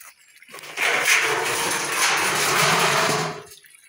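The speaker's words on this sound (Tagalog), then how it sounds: "Tapos yung tubig bumubulwak." A solar-powered water pump sends out a steady gush of water, starting abruptly, holding strong and close for about three seconds, then cutting off.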